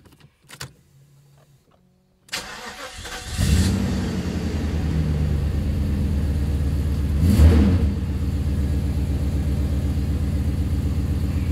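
A Mercedes R129 500 SL V8 with new distributor caps cranks briefly, catches on the first try and settles into a steady, close idle, with a short blip of revs partway through; small clicks come before the start.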